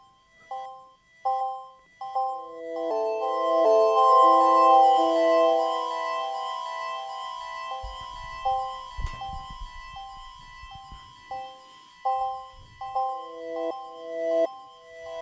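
Sparse MicroKorg synth notes from 2002 hardware, each trailing into a very long filter delay, with echoes piling into a sustained atmospheric wash before the notes stand out again; a soft low rumble passes midway.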